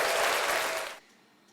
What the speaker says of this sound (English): Just give me applause.